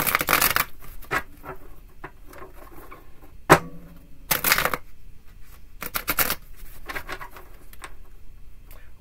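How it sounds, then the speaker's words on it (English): Tarot cards are shuffled in several quick riffling bursts separated by pauses, with a sharp tap midway, close and fairly quiet. "Three shuffles."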